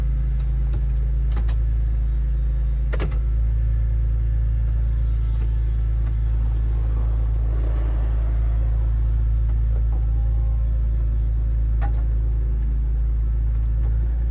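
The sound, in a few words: 2004 BMW E46 M3 convertible top operating with engine running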